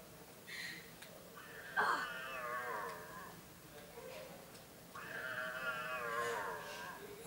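A cat in the PS1 game Harry Potter and the Philosopher's Stone lets out two drawn-out, wavering meows a few seconds apart, moderately loud over quiet game background.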